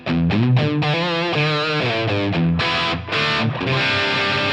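Distorted electric guitar on an amp modeler with subtle reverb, pre-delay, a low cut near 90 Hz and a high cut at 6 kHz, a brisk run of picked notes and chords, up front and alone.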